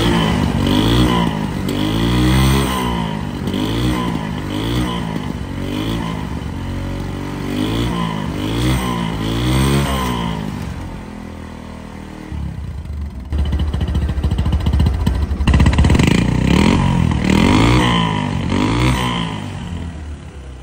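Engine of a second-hand Bajaj Discover 135cc motorcycle running loud and close, with rhythmic throttle blips and revs, a steady idle stretch, then a harder rev toward the end, no talk.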